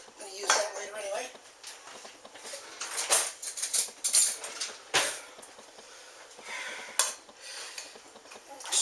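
Metal spoon scraping and pressing garlic against the bottom of a pan, giving irregular close clinks and scrapes with soft sizzle-like noise between them.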